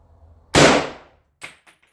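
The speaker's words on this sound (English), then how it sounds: "let's shoot the bullseye. First time, M1 Garand" M1 Garand rifle firing a single .30-06 round at targets outdoors, one loud sharp blast with a decaying boom, followed by a fainter metallic clink, with no talk.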